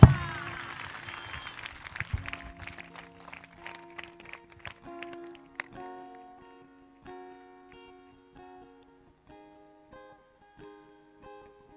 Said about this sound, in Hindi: सभी ब्रांच वाले जोरदार ताली बजाकर प्रभु को धन्यवाद दें।